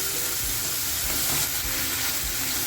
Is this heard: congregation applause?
no